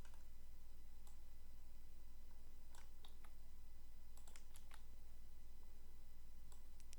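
Sparse keystrokes on a computer keyboard while Arduino code is typed, a few scattered clicks and short bursts over a steady low hum, fairly quiet and close.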